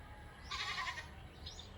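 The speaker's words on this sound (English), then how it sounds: "Today you're going to hear goats." Faint bleating from goats in the Philippines rises briefly over a quiet outdoor background, with a second softer call near the end.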